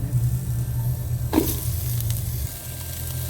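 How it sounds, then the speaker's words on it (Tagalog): Onion, garlic and ginger sauté in oil in a pot over a charcoal or wood fire, a low steady sizzle with one brief clattering stir partway through. "Gigisa natin yung ating sibuyas, bawang, luya."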